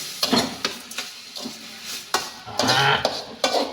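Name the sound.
stirring carrot halwa with sugar in a pan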